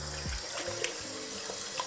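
Warm tap water runs steadily into a sink while a face is rinsed, with soft irregular splashes over a continuous close stream of water and no voices.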